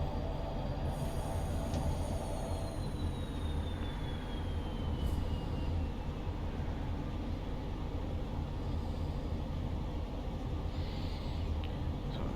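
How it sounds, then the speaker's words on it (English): A Class 170 train passes in Train Simulator Classic with a steady rolling rumble of wheels on rail. A faint high squeal slides downward partway through. "That was definitely a 170 that went by."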